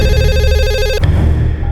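A telephone rings loudly and close with a steady electronic trill for about a second, then cuts off abruptly, leaving a fading tone and low room noise.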